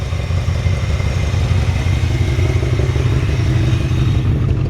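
A 1965 Chevrolet C10 pickup engine with a new Edelbrock AVS2 carburetor idles steadily nearby, a continuous low rumble with a faint rattle and no change in pitch.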